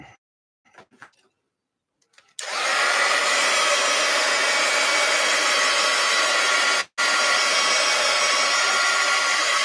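A handheld dryer roars on after a few faint taps and blows steadily to dry a painted art journal page, loud and continuous, cutting out for a moment before resuming.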